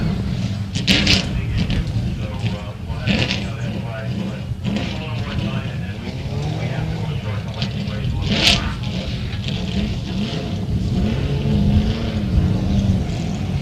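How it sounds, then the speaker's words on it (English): Acura TSX front-wheel-drive race car engine droning at a time attack track session, steady and fairly loud at mid distance, with a commentator talking over it throughout. "And Joey Silverio in his Acura TSX Enthusiast Front Wheel Drive."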